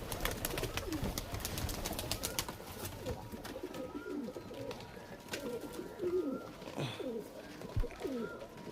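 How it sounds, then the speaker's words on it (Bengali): Pigeons in a loft coo near the microphone, soft throaty calls repeating in overlapping rounds, with occasional rustling and background chatter. "বন্ধুরা দেখুন এটা মাদা পায়রা"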